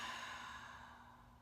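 A slow, deep breath out during a guided breathing exercise, a soft, faint airy exhale that gradually fades over about a second and a half, heard alone without speech.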